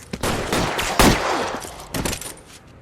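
Gunfire in the L.A. Noire video game crackles as a rapid burst of loud shots and fusillade-like volleys, close and dense, with a heavier blast in the middle.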